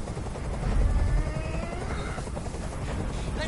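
A helicopter hovers near a rooftop hostage scene in the video game Detroit: Become Human, a loud, continuous, throbbing rotor roar with a low rumble swelling early on, heard alone without talk.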